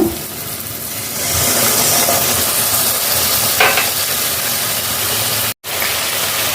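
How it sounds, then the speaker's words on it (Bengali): Steady broadband sizzling of water hitting hot oil, loud and continuous with a brief dropout near the end; no voices. "সামান্য একটু জল দিয়ে দিচ্ছি,"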